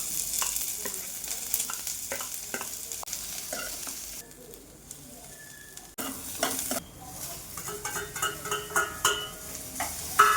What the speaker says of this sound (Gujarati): હવે સાંતળે છે ડુંગળી ટામેટા